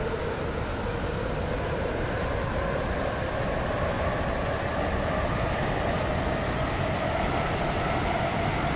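Waterline train running, a steady loud rumble of wheels and motor with a high whine, continuous and close throughout, with no talk.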